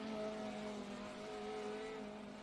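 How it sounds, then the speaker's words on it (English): Formula SAE race car engine running on a track at an Australasian competition, a steady distant drone with faint revving, heard alone without talk. "although he had trouble getting the engine to start and continue to run, it sounds quite reasonable out there"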